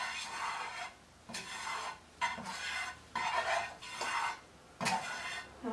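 A utensil scrapes and stirs garlic warming in a pan, giving soft, close, rhythmic strokes with brief pauses between them. A faint background sizzle runs underneath.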